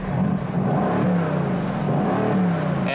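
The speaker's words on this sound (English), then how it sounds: "I'm going to turn the loud exhaust on." A 2018 Mercedes-AMG GT C Roadster runs with its loud exhaust mode on, giving a steady, deep engine drone with slight rises in pitch, fairly loud and close, with no talk.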